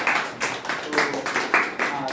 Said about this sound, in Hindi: दिशिका के लिए पहले जोर से तालियां बजाओ